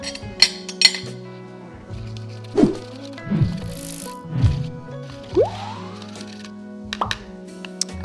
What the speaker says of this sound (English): So I'm just going to put that in my little sifter.